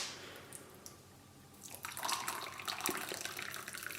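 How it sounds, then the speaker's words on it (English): Hot water from a kettle is poured into a homemade sports drink mix of salt and sugar, starting faintly and then becoming a louder, splashy close pour for the last couple of seconds. "add some hot water."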